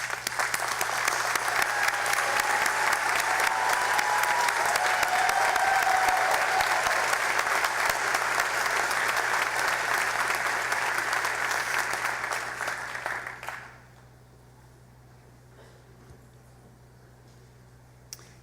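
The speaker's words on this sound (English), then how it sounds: "I invite our hardworking faculty to stand and be recognized with your applause" Sustained audience applause at a commencement ceremony, a dense wash of clapping that holds steady for over ten seconds before cutting off to quiet room hum.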